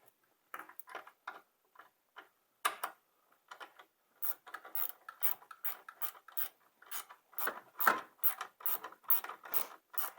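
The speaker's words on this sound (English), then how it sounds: "Now the swivel ratchet that I'm using here, they're pretty sweet." A Mac swivel ratchet tightening a bolt during solenoid replacement on a 1991 Polaris, with quick bursts of sharp clicking pawl strokes, sparse at first and then faster and denser, close up and without talk.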